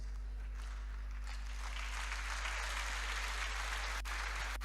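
Audience applause at a church birthday celebration, a steady patter of clapping from a crowd that swells midway and holds, moderately loud.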